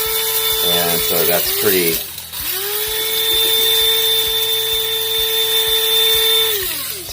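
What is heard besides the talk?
grinding Trader Joe's Honey Roast coffee to espresso fineness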